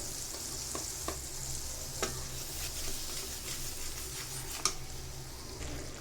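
Spice masala for a fresh shing fish curry is stir-fried in a pan, making a soft, steady sizzle with scattered light scrapes and taps from the stirring spoon.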